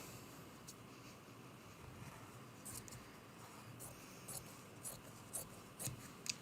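Fabric being cut with scissors for a mug rug, a run of soft, crisp snips spaced a second or so apart, gentle and close over a quiet room hum.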